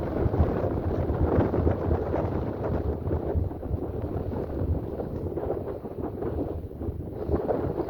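Strong outdoor wind roaring across a microphone on a Nevada bicycle tour, a dense, loud, continuous rumble with constant buffeting and no clear pauses.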